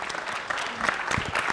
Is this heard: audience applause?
yes